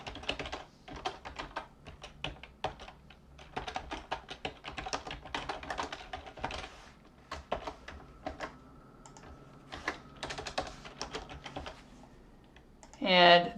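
Brisk typing on a computer keyboard, with clusters of quick key taps and short pauses between them, sits close and clear under occasional soft speech.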